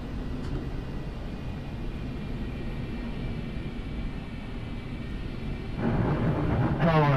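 A Concorde airliner in Flight Simulator X on final approach to land on runway 27 left at Heathrow. Steady, broad engine roar drones throughout and swells louder and rougher in the last second.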